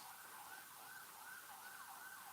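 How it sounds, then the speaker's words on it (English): An ambulance siren on a street in the Bronx wails in a regular rapid rise and fall, faint and steady, heard alone over low traffic noise. "That's an ambulance."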